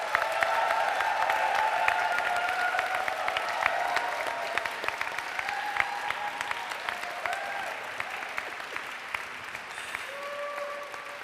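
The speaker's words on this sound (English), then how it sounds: "Could you give them a big round of applause, please?" An audience applauds a brass band at a university graduation ceremony in Rochester Cathedral, with sustained, even clapping from a large crowd that carries on throughout, while sustained tones sound faintly beneath the applause.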